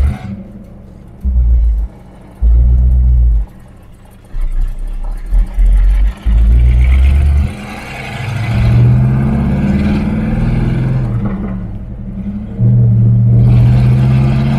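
A 1970 Plymouth Superbird's engine revs hard while driven, loud and close, climbing through repeated surges that alternate with sharp drops as gears change.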